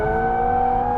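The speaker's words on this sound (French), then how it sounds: "c'est vraiment une petite voiture où on peut faire du drift avec, hein, la preuve" A Toyota GR86 with a manual gearbox drifting, its engine holding a steady loud, buzzing drone with strong tonal harmonics throughout the short moment, no voices.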